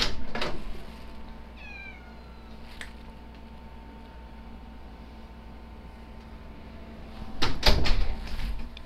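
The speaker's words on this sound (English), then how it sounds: "And I have a cat meowing at the door." A house cat meows at a closed door indoors, a couple of short rising cries early on, with a louder burst of cat noise and door rattling near the end over a steady hum of computer fans.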